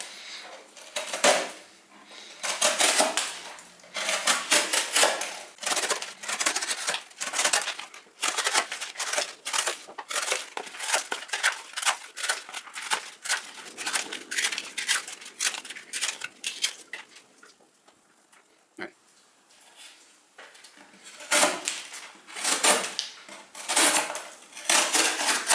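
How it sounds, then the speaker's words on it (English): A Spyderco Native 5 folding knife with CTS XHP steel slices through cardboard in a run of sharp, scratchy, close cuts and tearing strokes, steady at first, pausing briefly near the middle, then resuming in quick bursts. "I'm rolling a little footage of me cutting cardboard with them"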